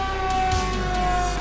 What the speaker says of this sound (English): And a nice cue siren, too.